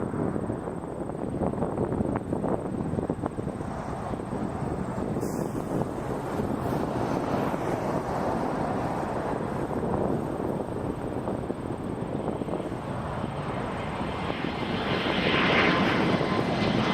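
A Porter Airlines airplane at Toronto Pearson Airport gives a loud, steady engine roar that runs unbroken from start to finish, with wind buffeting the microphone and no talking.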